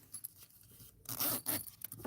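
A zipper on a bag is pulled open in a couple of quick, scratchy bursts, close by, with a faint click and light handling noise before it.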